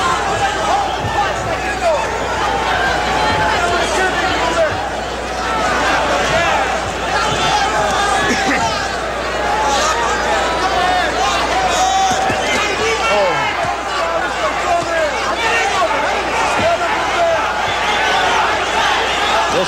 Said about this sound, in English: Listen to the crowd now.